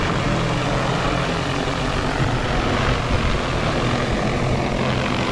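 A DJI T20 agricultural drone hovers directly overhead spraying a durian orchard, its rotors producing a loud, continuous, even roar that fills the whole stretch with no talking.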